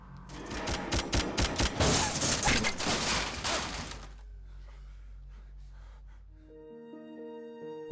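Dense automatic gunfire tears through a heist film scene at an elevator, with rapid, loud bursts that stop abruptly and give way to quiet room tone.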